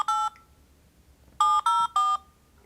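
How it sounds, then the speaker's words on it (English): Telephone keypad tones dialing a cell phone for a real estate cold call: one beep, a pause, then three quick beeps in a row, clean and close. "So let's call his cell phone and see what he says"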